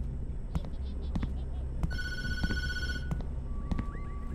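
Telephone ringing in the horror video game Tattletail: a steady electronic ring with a harmonic tone, heard over game background sounds and scattered clicks, fairly loud and continuous.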